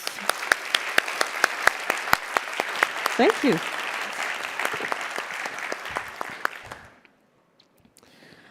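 An audience at an open-mic education conference session claps together for several seconds. A speaker briefly talks at the start, and the applause stops abruptly near the end.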